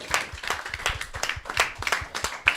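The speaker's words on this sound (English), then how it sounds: "Give Sejal a big round of applause." A live audience claps in a brisk, uneven rhythm, individual hand claps distinct and fairly close, a short burst of applause without talk.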